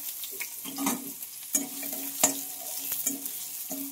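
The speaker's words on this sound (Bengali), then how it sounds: "এখন হচ্ছে দিয়ে নেব পেঁয়াজ বেগুন" Onions and eggplant frying in hot oil, a steady sizzle broken by repeated stirring scrapes and clicks of a utensil against the pan, close and unaccompanied by talk.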